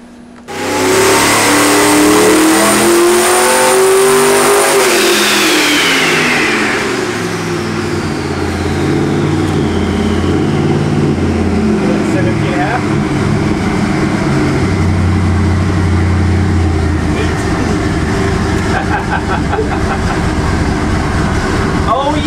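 Turbocharged 632 big-block Chevy engine rated at 2200 horsepower roars at full load on a dyno, climbing in pitch for several seconds, then dropping and rumbling on at high volume, very close and overpowering throughout.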